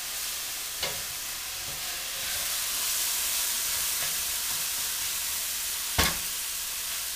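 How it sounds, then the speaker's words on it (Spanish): Onion frying in oil until translucent for ají de gallina, a steady soft sizzle and hiss from the pan, with two brief clinks of a utensil stirring, no voices. "dejamos un momento que cristalice la cebolla"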